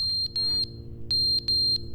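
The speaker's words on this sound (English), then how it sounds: "Oh, the skip button's beeping." Skip button in The Stanley Parable: Ultra Deluxe emitting a high, piercing electronic beep in short repeated bursts, roughly five pulses in two seconds, loud and alone over a faint low hum.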